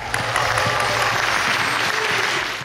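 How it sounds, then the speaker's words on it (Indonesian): A fellowship-night audience breaks into loud, dense applause, steady clapping throughout with a few sharper individual claps and whistle-like accents near the start. "Tepuk tangan dong."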